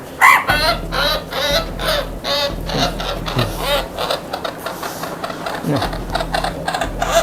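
A chicken clucks and squawks repeatedly while being handled on an exam table at a veterinary clinic, loud, close, and agitated, with rapid overlapping calls and some handling noise.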